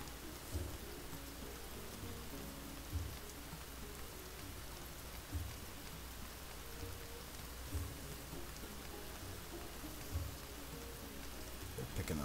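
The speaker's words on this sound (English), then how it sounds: "I hate the rain. I have no idea how to get it to stop in this game." Steady rain falls in the video game Stonehearth, a dense, even hiss of drops with soft low thumps at regular intervals beneath it, constant and moderately quiet throughout.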